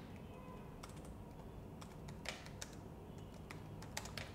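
Keys tapped on a computer keyboard while a file name is entered, a quiet run of scattered light clicks, a few slightly sharper strokes, over a steady background hiss.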